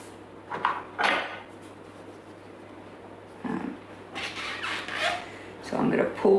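Minced meat is stirred in a Thermomix bowl while pastitsio is being prepared. A utensil makes several short, soft scraping and rubbing sounds close by, with quiet pauses between strokes.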